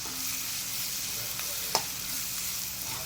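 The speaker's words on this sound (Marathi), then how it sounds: "आणि हे सगळे मसाले आपण मिक्स करून घेऊया चांगले." Powdered spices stirred into hot oil in a pan for masala bhindi, a constant close sizzle with a couple of light scraping strokes and one brief clink of the spoon.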